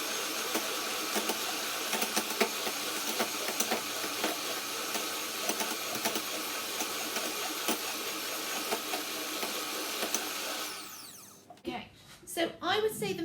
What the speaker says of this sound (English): Just going to whisk this for a couple more seconds.